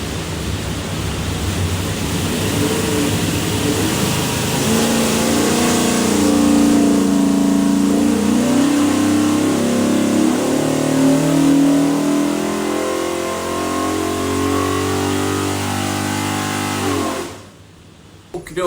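A 521ci big block Ford with a custom-grind hydraulic roller cam and EFI, built for a '70 Torino GT, roars on a dyno in one loud, sustained pull, the pitch climbing steadily before the engine cuts off abruptly near the end.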